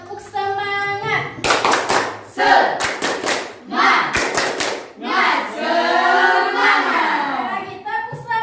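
A classroom of students stands and performs a rhythmic group clap, bursts of patterned hand claps alternating with voices calling out together between them.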